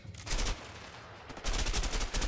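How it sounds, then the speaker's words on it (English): Rapid bursts of submachine gun fire in the video game A Way Out, two dense volleys separated by a short pause, loud and close. "that this was going to be like a submachine gun type deal"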